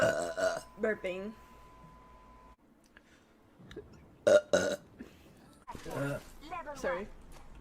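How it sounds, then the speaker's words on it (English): A person lets out several loud burps, spaced irregularly, with a speaking voice close by between them. "Burping."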